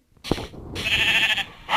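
A Minecraft sheep bleats twice in quick succession, a clear, nasal, wavering cry, loud and close with no talking.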